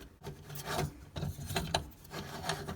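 A metal ring is screwed onto a kitchen sink basket strainer, giving quiet repeated rasping and rubbing scrapes in short twisting strokes, close and faint.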